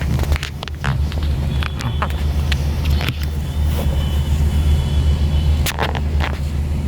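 A car pulls up at a CNG pump, with a steady engine and road rumble plus some wind noise and a few knocks and clicks, loud and continuous.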